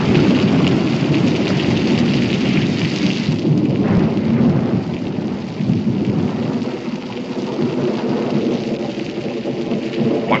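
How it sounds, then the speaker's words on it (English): A thunderstorm in a Western drama setting: continuous heavy rain and low rumbling thunder roll steadily throughout, loud and close, with no speech. "Major Howerton doesn't want to get caught when this storm lets loose."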